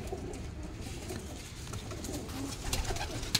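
Punjabi Malwai pigeons kept for sale coo softly in a quiet setting, with a few faint low calls and light rustling near the end.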